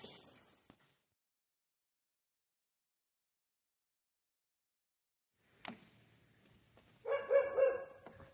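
A livestock guardian dog barks a few times in the distance on a goat farm, brief faint yips after long silence, with a short noise at the start.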